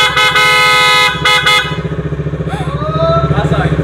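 A newly installed horn on a Bajaj Dominar 400 motorcycle blares loud and close in several sustained honks at the start, then the engine idles with a steady pulsing throb while a voice talks.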